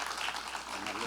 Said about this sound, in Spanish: Un fuerte aplauso para ellos dos